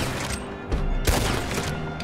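Rapid bursts of gunfire in Red Dead Online, including a Gatling gun, crack out loudly in a dense volley with a couple of heavier booming shots.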